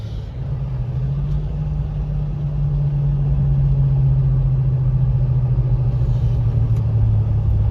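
Mitsubishi Pajero engine with a knock running steadily after a downshift, a loud, close, continuous low drone that builds slightly and holds without talk.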